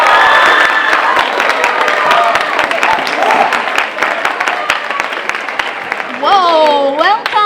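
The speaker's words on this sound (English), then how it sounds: "Please give a big round of applause to the one and only Kateryna Ilechko" Loud crowd applause and cheering, with whoops and shouts over continuous clapping, and a rising excited vocal cry near the end.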